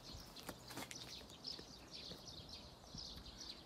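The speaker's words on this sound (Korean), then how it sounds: "새소리가 아주," Birds chirp and sing outdoors, faint and distant, in short scattered calls over a low rustling background.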